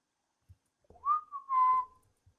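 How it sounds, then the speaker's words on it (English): A single short whistled note rising then holding steady, clear and close, with a couple of faint taps around it, in the video game Phasmophobia. "So can you hear me whistle?"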